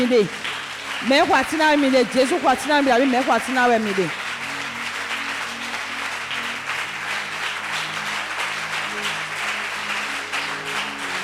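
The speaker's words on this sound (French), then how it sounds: "Est-ce qu'on peut acclamer le Seigneur?" A church congregation at a Sunday worship service claps and cheers in praise, a broad, steady wash of applause filling the room after a singing voice fades out in the first few seconds.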